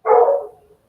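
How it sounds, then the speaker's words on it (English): A single dog bark, loud and close, a short sharp woof that fades quickly into silence inside a room. "I heard the dog."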